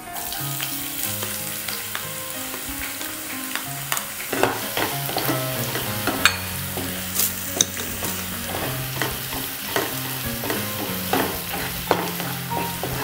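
Chopped onion sizzling and frying in a pan for mixed fried rice, with steady hissing and frequent sharp scrapes and taps of a spoon stirring, close and clear with no talk.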